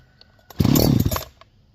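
A Farmertec Holzfforma G372 XP chainsaw, freshly fitted with a Walbro HD12 carburetor, sputters to life for under a second after a pull, a loud close burst that dies away quickly.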